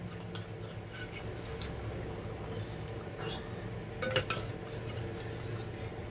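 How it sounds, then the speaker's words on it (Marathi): Mutton pieces and potatoes are tipped into a clay pot, giving scattered soft clinks and scrapes over a steady low background hum, with one sharper knock near the end. "पपीस आणि मटण आता ह्याच्यात आपण टाकून घेऊ"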